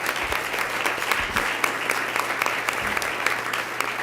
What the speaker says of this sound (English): Please give him a round of applause for his leadership.